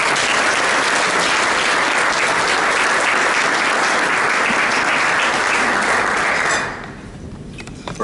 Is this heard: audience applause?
yes